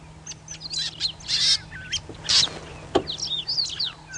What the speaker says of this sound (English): You can hear quite an array of birds going on.